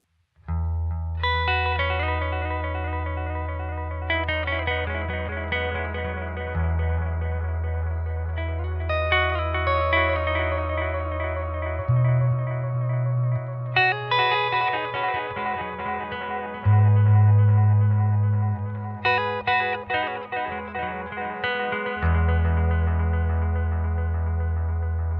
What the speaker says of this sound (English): we've got the Boss DD200, and it's on its tape echo mode